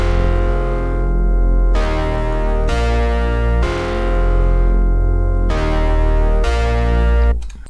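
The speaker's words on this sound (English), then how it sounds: "This is a GM synth, it's a preset, and I put a low pass filter on it and boosted the low frequencies." A GM synth preset run through a low-pass filter with boosted lows, layered with a distorted bass in a future house track, plays loud sustained chords that change every second or so with a filtered, gritty tone and no voices.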